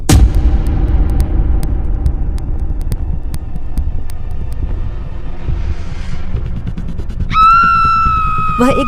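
A woman in an animated horror film screams loudly as she opens a coffin, a sudden high piercing cry rising near the end over a dark rumbling, pulsing score.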